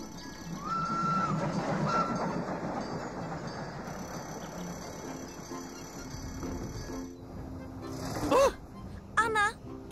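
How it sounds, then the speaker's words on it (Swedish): A cartoon train rumbles past with a rolling clatter that fills the scene, and a couple of sharp whistle-like calls sound near the end while characters talk over it. "Se upp för tåget!"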